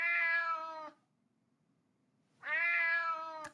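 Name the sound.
cat meowing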